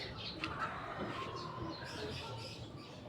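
Racing pigeons coo and chirp softly around a loft during a race, with low, burbling calls over a constant background hum and faint distant voices.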